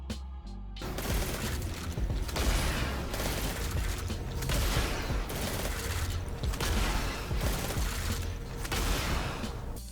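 Video game rocket launcher fired again and again without reloading: a dense, continuous barrage of loud booming blasts and explosions that overlap in a steady, relentless roll.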